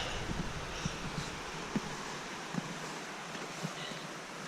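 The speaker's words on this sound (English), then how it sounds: "Gee, the river's flowing fast." A steady broadband rush of a fast-flowing river fills the scene, constant and fairly loud, with occasional faint knocks and wind buffeting.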